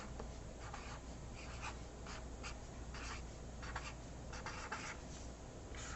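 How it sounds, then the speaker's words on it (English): A pen or pencil scratches across paper in short repeated strokes, soft and steady under a constant low room hum, with no speech. "at the top of my paper, I'm going to write the word brainstorm"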